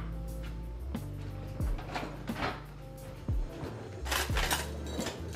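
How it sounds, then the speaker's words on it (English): Metal measuring spoons clink and clatter in short knocks and rattles as they are picked up in a kitchen while potato leek casserole is prepared, close and moderately loud, with no talking. "Measuring spoons."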